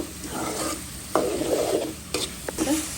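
Dried loitta fish stirred in a hot pan, sizzling steadily with sharp scraping strokes of the spoon at intervals, close and fairly loud, no talking.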